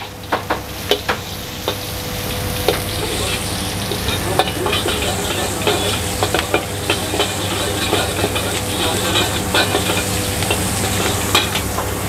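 Onion sizzles loudly in hot oil in a pan while being stirred, a dense continuous hiss broken by frequent sharp clicks of a utensil against the pan; no one speaks.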